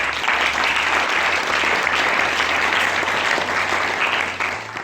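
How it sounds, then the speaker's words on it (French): Sustained applause from an audience at a town hall awards ceremony, steady and dense throughout, loud and close, with a low hum underneath. "On peut aussi l'applaudir."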